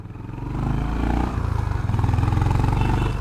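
A Honda CB350 RS motorcycle idles and revs close by, its exhaust giving a deep, rhythmic thumping pulse that rises in loudness and stays steady.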